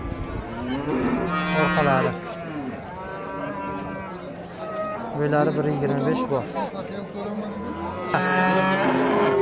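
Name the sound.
cow mooing at cattle market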